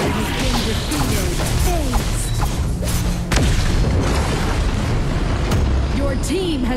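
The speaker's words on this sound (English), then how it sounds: "Your team has destroyed a tower." A tower being destroyed in the Arena of Valor mobile game, with dense booms, crashes and explosive hits layered over game effects and an announcer voice throughout.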